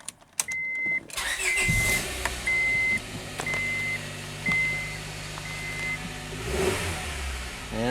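A Honda Prelude's H23A engine, freshly swapped in, cranks and fires, then revs up and settles to a steady idle, loud and close, with a repeated chime beeping over it.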